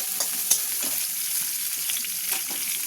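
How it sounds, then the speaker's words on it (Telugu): Onion pieces sizzle steadily in a hot pan for a pasta dish, with a few sharp scrapes and clicks of a spoon stirring them, close and continuous with no talking. "ఇప్పుడు ఆనియన్ ముక్కలు వేస్తున్నాను, ఉల్లిపాయ ముక్కలు. ఇవి కొంచెం బాగా కలుపుకుందాము."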